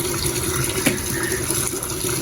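Water running steadily from a tap into a container, a constant close splashing rush with no pauses, heard alone throughout.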